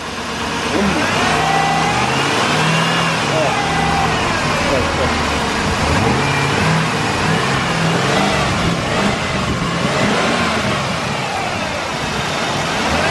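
A Jeep Grand Cherokee V8, freshly fitted with new spark plugs and coil packs, runs steadily and is revved, its engine loud and close throughout while someone talks over it.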